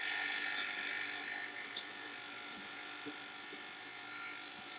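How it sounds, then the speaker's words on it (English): An electric stand mixer runs on low, stirring white sugar in a bowl, giving a faint, steady motor whir throughout with a few small clicks. "I'm going to put that in my mixer, and I'm just going to turn it on low just to mix that a little bit."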